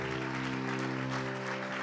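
Congregation applause at an evangelical church service fills the space as broad, steady clapping, blended with a sustained droning musical tone underneath.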